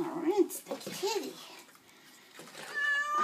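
Cat TJ lets out two plaintive meows close by during a bath, then falls quiet briefly before water splashes and a higher squeaky sound follow. A person speaks softly between the sounds.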